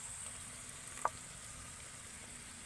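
Ground tomato sizzles faintly and steadily in hot oil with onion, ginger and garlic for a prawn malai curry, with one brief soft tap in the middle and no voices.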